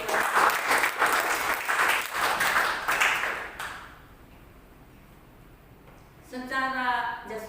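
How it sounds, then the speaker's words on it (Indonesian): A church congregation bursts into loud, dense applause for about four seconds during a worship service, then it fades to quiet before a voice resumes. "Tepuk tangan yang buat Tuhan."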